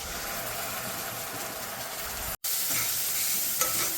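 Chopped onion and ginger-garlic paste fry in hot oil in a home kitchen, giving a steady loud sizzle with a brief break midway and a faint scrape near the end.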